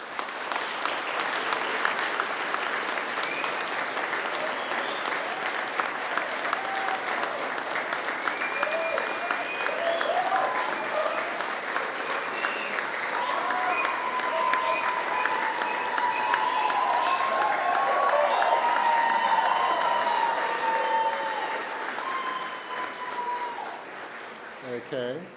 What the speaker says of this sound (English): now it's time to give them a mighty round of applause